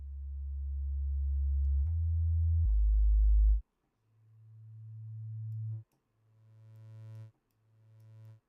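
A synthesized tone built in Reaktor plays as deep sustained pitches that swell and cut off in four separate phrases, the later ones higher and brighter with added harmonics.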